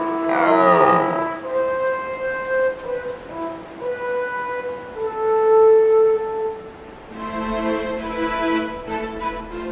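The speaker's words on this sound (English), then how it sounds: "All day long, the rutting calls of stags echoes from the slopes." Red deer stags roaring in the autumn rut on mountain slopes in Austria, long drawn-out harmonic bellows that come one after another and carry far, with no talking.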